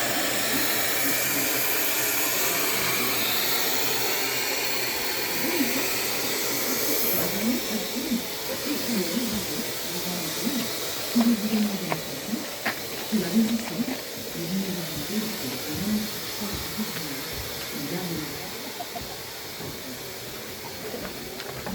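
A French-made 040-configuration steam locomotive for short runs gives off a broad, steady hiss of steam that fades slightly over time, with a person talking quietly underneath.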